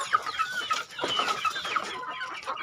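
Several chickens cluck continuously in a semi-free-range pen in Indonesia, overlapping calls close by and fairly loud, with no talking.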